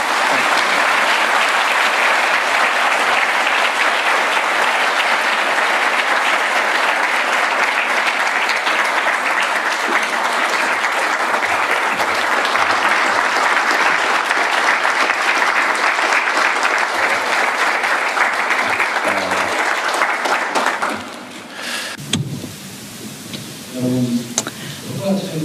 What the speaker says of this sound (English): And so I would ask you, with your enthusiastic applause to please welcome President Lee Jae-myung to the dais